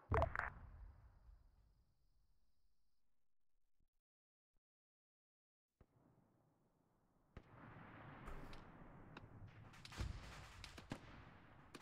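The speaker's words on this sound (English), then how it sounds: "Mortars, get down." Mortar fire in the video game Arma 3: a heavy distant blast at the start fades into quiet, then a cluster of sharp explosions and rumbling impacts follows over a background of battlefield noise.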